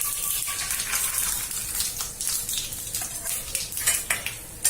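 Peanuts frying in hot oil in a pan for kande pohe, a busy sizzle with clinks and rattles of a spoon against metal, close by and without speech.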